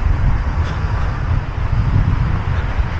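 Wind buffeting the microphone during a run in the 2024 Berlin Marathon, a steady low rumbling roar that persists unbroken throughout, with no talking.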